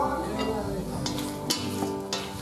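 Garlic and parsley are pounded in a mortar, with a few sharp, close knocks at irregular intervals over a low kitchen background hum.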